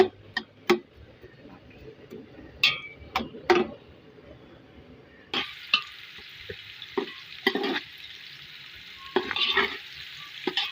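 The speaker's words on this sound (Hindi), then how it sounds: "प्याज को ब्राउन करेंगे, फिर आगे इसके काम शुरू करेंगे।" Onions frying and browning in a pan, with sparse sizzling and sharp scraping stir strokes at an irregular rhythm, growing busier in the latter half, close and fairly quiet.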